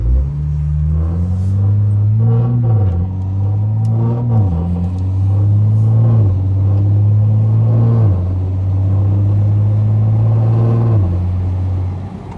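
An Acura NSX sports car engine revs and accelerates through several gear changes, its deep exhaust note rising, dropping at each shift, then climbing again, loud and close.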